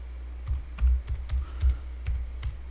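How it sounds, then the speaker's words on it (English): A computer keyboard being typed on, about eight distinct key clicks with thumpy lows at an irregular pace, close and fairly clear, with no talking. "by typing"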